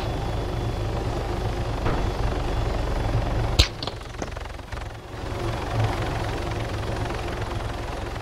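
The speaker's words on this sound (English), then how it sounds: "Landed now. I'm headed your way." A helicopter rotor drones steadily up close in a video game while the aircraft sets down. A sharp bang and a few brief clatters break through midway.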